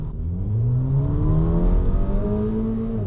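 A 2006 VW Golf V GTI with DSG gearbox accelerates hard, its engine note rising steadily in pitch as revs climb, loud and continuous from inside the car, with no talking.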